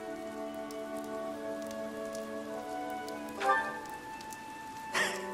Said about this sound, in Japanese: おっと、雨が強くなってきた。